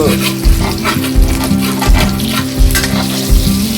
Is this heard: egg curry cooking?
yes